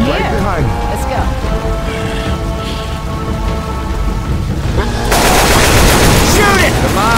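Rapid gunfire in the zombie shooter Left 4 Dead 2 during an expert run of The Passing campaign, bursts of shots over rain-like ambience that swells louder near the end, with voices calling out.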